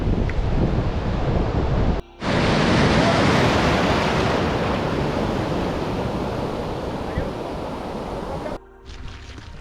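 Ocean waves breaking at a surf spot on the French coast, a loud, continuous roar of surf mixed with heavy wind noise, briefly cut off twice.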